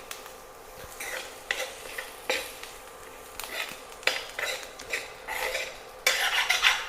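Potato stir-fry for mezhukkupuratti being stirred in a pan, repeated bursts of spatula scraping and clanking against metal over a soft sizzle, no talk.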